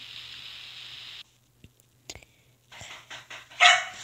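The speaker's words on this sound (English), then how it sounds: "Little did you know that's a dog" A dog barks in a few short, sharp yips, separated by quiet gaps after a steady background hiss cuts out, the final bark loudest and near.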